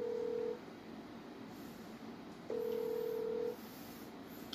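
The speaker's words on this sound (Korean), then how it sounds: "전화 드리겠습니다" Two telephone keypad tones sound while a call is being placed, a short beep at the start and a longer one about two seconds later, both clear and fairly quiet over a faint background hum.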